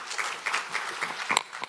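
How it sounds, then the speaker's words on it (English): A medical conference audience gives brief, scattered applause for a prostate cancer speaker, faint and patchy for under two seconds. "a warm round of applause"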